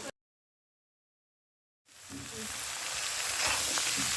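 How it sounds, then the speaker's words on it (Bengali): Cut eggplant is added to a pan of potato, fish oil and onion already frying. Silence comes first, then a loud, steady sizzle starts and holds to the end. "কেটে রাখা বেগুন দিয়ে আমি ভালোভাবে ভেজে নেব"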